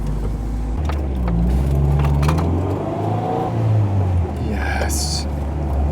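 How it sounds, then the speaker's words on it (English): Nissan 300ZX Z32 with a newly fitted intake on a test drive, its engine droning steadily with gentle rises in pitch as it pulls, heard from inside the car with occasional faint voices. "Let's throw on this intake and go for a test drive."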